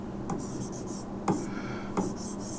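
Pen or pencil writing out the Hindi alphabet, a steady faint scratching across the whole stretch with a few sharper taps as strokes begin, close and quiet with no talk over it.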